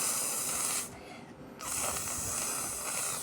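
Steady broadband hiss of a water jet from a hose in a car-wash game, loud and continuous, dropping away briefly for under a second before resuming at full strength.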